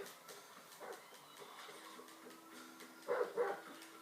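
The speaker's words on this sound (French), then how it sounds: "Ah, le voilà le chien, il est là." A dog in a video game barks twice in quick succession near the end, short loud bursts over a low, steady hum of game ambience.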